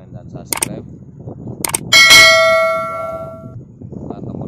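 A bright bell-like ding rings out once, with a sharp strike and a long shimmering ring that fades over about two seconds, preceded by a couple of short clanks over a low background.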